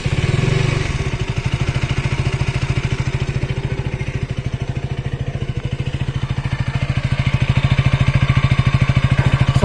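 A 2025 KTM Duke 200 with an underbelly exhaust starts with a brief burst, then settles into a steady, loud, close idle with a rapid, even thudding pulse.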